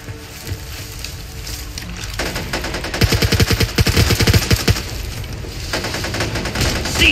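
Automatic gunfire in the video game Back 4 Blood, a dense rapid burst of rattling shots that builds and continues for several seconds, loud and close, with some game noise beneath.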